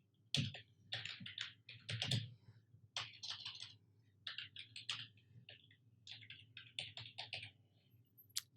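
Typing on a computer keyboard while drafting an application letter, with quick bursts of close, crisp key clicks separated by short pauses and a low steady hum underneath.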